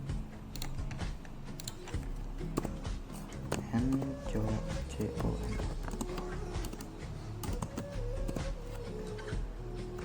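Keys clatter on a computer keyboard as a router command is entered in a networking lab, a steady run of close, light taps over a constant low hum, with a voice talking faintly in the background.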